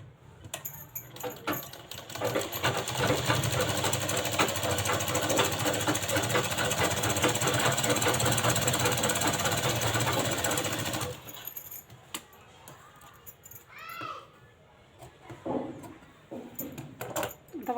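A domestic sewing machine runs in one steady, loud burst of stitching as a cross strip is sewn onto a lined blouse, then stops, leaving quieter handling noises of fabric and small clicks.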